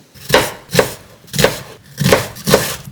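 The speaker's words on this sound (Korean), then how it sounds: "양파를 잘라줄게요." A knife chops onion on a board in five firm, evenly spaced strokes, close and clear.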